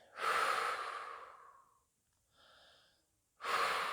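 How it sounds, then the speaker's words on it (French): A slow meditative exhale: a long soft breath out that fades, a faint quiet breath, then another breath starting at the end, close and alone without talk. "Puis vous soufflez"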